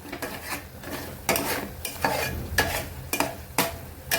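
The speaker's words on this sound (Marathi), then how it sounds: "एक 5 मिनिटासाठी आपण परत एकदा भाजून घेऊया." Masala spices for methi malai matar being roasted in a pan, a spoon scraping and stirring in steady rhythmic strokes over a soft sizzle, close by, with no voices.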